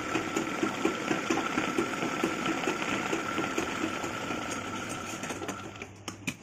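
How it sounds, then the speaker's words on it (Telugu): A sewing machine stitches fabric for a Punjabi dress pant, a close, rapid, rhythmic needle chatter with a motor hum that runs steadily and then slows and stops near the end. "ఇటువైపు కూడా మంచి కుట్టుకోవాలి"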